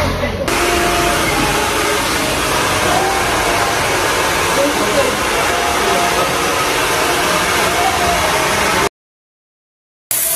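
Hair steamer running in a hair salon, a loud steady hiss of blowing steam close by that cuts off abruptly near the end.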